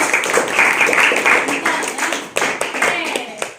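Students clapping in a classroom after a group presentation: a burst of loud, close applause that continues steadily, then thins into a few scattered, sharper claps toward the end.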